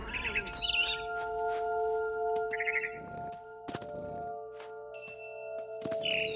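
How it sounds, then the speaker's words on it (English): A barn swallow in What Remains of Edith Finch gives several short, bright chirps near the start and again midway, heard over a steady tonal hum of game ambience. "Then I heard chirping outside my window. It was a barn swallow going back to her nest."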